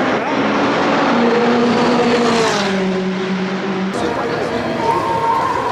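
A Ferrari race car engine roars in the pits at Le Mans, loud and close, holding a steady drone with pitch shifts as it revs, and a sharp change in tone near the end.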